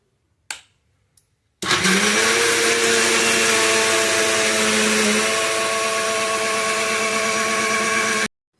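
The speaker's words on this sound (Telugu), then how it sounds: "కొంచెం కొంచెం మిక్సీ చేద్దాము" A kitchen mixer grinder blends eggs, grated jaggery and milk, starting with a sharp whir after a couple of small clicks, then running as a loud, steady high-pitched motor drone for about seven seconds before stopping abruptly.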